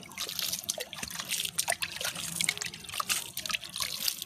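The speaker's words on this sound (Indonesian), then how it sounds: "ini setelah di polybag kemudian kita siram dengan air" Water poured from above onto kecombrang stems planted in a polybag of soil, making a steady close trickling and splattering with small sloshes throughout.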